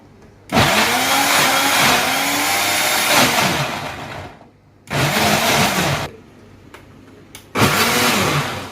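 An electric blender whirs through tomatoes, garlic cloves, salt and red chili for salsa, running in three loud bursts with a whining motor pitch and short pauses between them.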